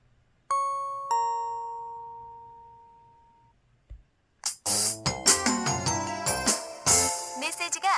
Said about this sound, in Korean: 메시지가 도착했습니다.